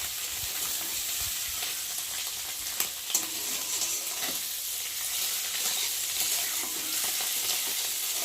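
Eggs sizzle steadily while lightly frying in a hot pan, a dense crackling hiss with a few clinks of a utensil.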